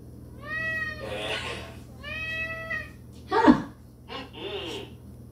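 A pet cat meows twice in long, complaining cries close to the microphone, followed by a louder thump or rustle and a shorter, fainter third meow over a low steady hum, with no clear talk.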